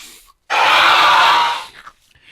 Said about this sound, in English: And the short scream sounds like this.